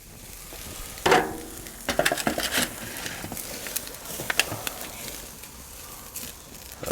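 Tomahawk steak sears on a Slow 'N Sear kettle grill, giving a steady close sizzle with a sharp burst of crackle early on and scattered pops and spatters throughout.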